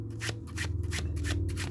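A deck of tarot cards is shuffled by hand in a quick, steady series of soft rubbing flutters, close and continuous, over a low background hum.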